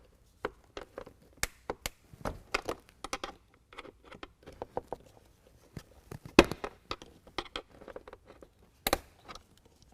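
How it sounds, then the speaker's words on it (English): A fastener removal tool pries a wiring harness clip loose in the engine bay of a 2020 Ram 2500 with a 6.7L Cummins diesel, giving a string of sharp, irregular clicks and taps, close and sparse with quiet gaps between. "We're going to use a fastener removal tool to pry that out."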